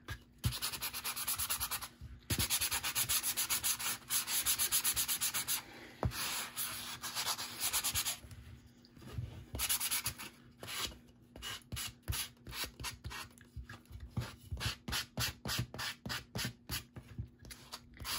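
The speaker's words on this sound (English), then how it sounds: "So if you sand it a little bit, it kind of takes some of your rough edges and kind of all blends." Sandpaper rubbed over a handmade Christmas gnome craft piece, a long stretch of steady scratchy strokes that break into quick rhythmic rubbing passes toward the end, close and alone with no talk.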